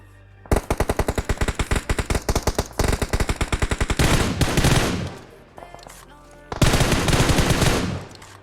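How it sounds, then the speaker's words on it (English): Rapid automatic gunfire from a video game battle in a pro league esports match: loud, close bursts of machine-gun fire in quick rhythmic strings, pausing briefly between volleys, followed by a denser crackling barrage and another heavy burst. "Shots from Galaxy taking down 2 of them now."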